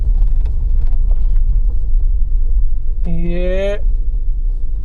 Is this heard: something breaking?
no